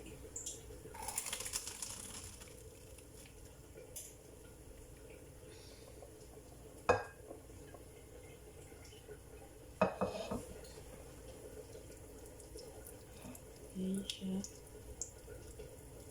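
Water splashes and trickles out of a cooking pot with vegetables such as carrots and potatoes, with a few sharp metallic clinks of the pot and lid, all fairly quiet and close.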